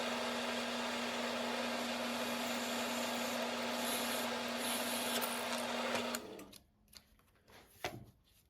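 A continuous buzzing motor drone with a steady low hum as threads for an 8-32 screw are tapped through brass and acrylic, running evenly before cutting off, then a few scattered clicks and knocks.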